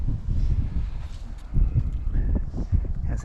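Wind gusting across an exposed hillside on Ben Lomond, Tasmania, a steady low rumble of buffeting with occasional louder gusts and faint rustling, continuous throughout.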